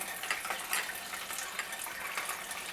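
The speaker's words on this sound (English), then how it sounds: "I'm going to keep letting that run and try it again" Tap water running steadily from a kitchen faucet while filling a filter pitcher test, a continuous splashing gush heard close and alone throughout.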